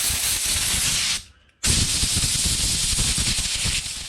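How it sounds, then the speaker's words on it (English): Compressed air blasts carb cleaner out of a Kawasaki GPz400R motorcycle carburettor, a loud, close hissing rush broken by one short pause before a second burst. "So we'll give it a bit of a blowout. Get rid of as much of that carb"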